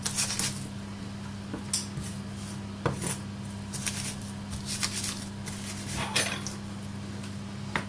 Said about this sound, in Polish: Solimy wcześniej przygotowany czosnek już obrany i rozgniatamy go.